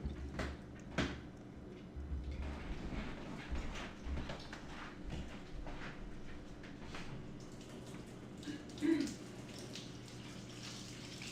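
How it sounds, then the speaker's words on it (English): Hands being washed at an indoor sink, running tap water splashing faintly and unevenly for several seconds with soft knocks and rustles around it, fairly quiet and close. "let me wash my hands"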